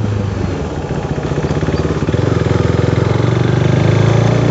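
A motorcycle engine runs steadily and loud on a small Sunday group breakfast ride with a biking community, its rapid pulsing idle-like throb building slightly in rhythm.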